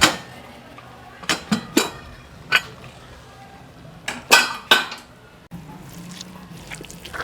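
A pressure cooker holding cooked fada lapsi (Surti cracked-wheat dish) being opened in a home kitchen: a series of sharp metallic clinks and clanks from the lid and utensils, spaced irregularly over low background noise.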